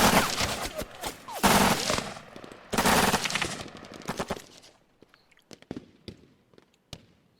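Gunfire in the tactical video game Lock 'n Load Tactical comes in loud bursts of rapid shots for about four seconds. After that, a few scattered single shots and clicks follow at a distance.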